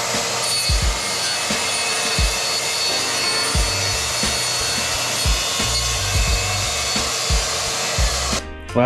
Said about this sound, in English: Well, after cutting the 1/4-inch plywood